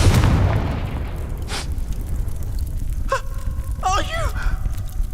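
A Confringo fire spell bursts in Hogwarts Legacy, a broad explosive boom that decays over a second or so, followed by a brief whoosh and a spoken exclamation.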